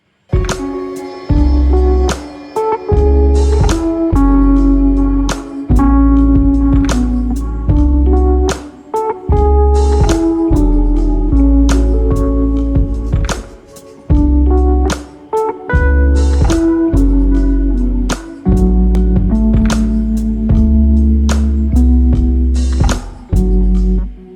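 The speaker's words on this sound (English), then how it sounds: "yeah, it sounds like a guitar basically." A bright, plucky guitar-like synth line in a lo-fi beat made in FL Studio plays over a thumping beat and chords, loud and continuous, with brief breaks.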